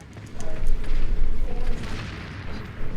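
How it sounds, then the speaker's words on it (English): Dynamite explodes in the Resident Evil 4 video game, a loud rumbling boom that swells and rolls on for a couple of seconds, with a second lesser blast near the end. "So right here, we're gonna reload while the dynamite is exploding."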